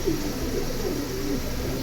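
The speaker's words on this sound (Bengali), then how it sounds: "খুবই সুন্দর কবুতর।" Low, soft cooing from silver pigeons rises a few times out of a constant broadband hiss, faint and close, with no voices.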